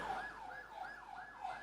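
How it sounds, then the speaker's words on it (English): Emergency siren wailing in Accra city centre, a rising and falling electronic wail repeating in a steady cycle, distant and faint over low street noise. "You can hear in the background the sirens blaring."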